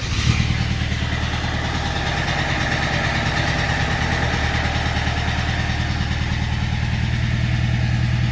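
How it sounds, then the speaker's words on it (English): A Honda car with 179,000 miles idles a little rough, a steady low engine rumble with a faint uneven pulse that runs unbroken and fairly loud throughout. "You can see her or hear that she runs a little rough."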